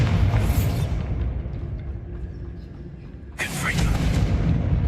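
A Bombarda blasting spell exploding in Hogwarts Legacy, a loud, dense roar of rumbling blast that fades over a couple of seconds before a second sharp burst hits near the end.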